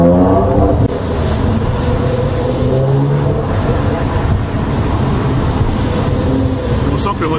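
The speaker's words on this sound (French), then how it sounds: "cet échappement valve ouverte, c'est qu'à l'arrêt, il est absolument discret" A Porsche 997 MKI Carrera with a SCART exhaust, valve open, rumbles loud and close at a steady idle, its deep exhaust note continuous throughout.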